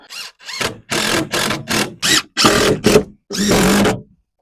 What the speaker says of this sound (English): we're gonna screw this down